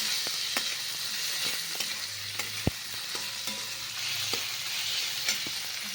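Ivy gourd (tondli) frying in hot oil with masala, salt and turmeric, a dense steady sizzle with occasional light stirring clicks, close and continuous.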